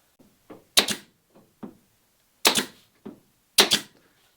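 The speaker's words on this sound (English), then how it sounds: "in theory, I can tack my planking together, and it does kind of come out the back because the gun sort of overshoots a little bit" A nail gun tacks wooden boat planking (the garboard strakes) together, firing three sharp, loud, close snaps about a second apart, each preceded by smaller clicks and knocks of handling.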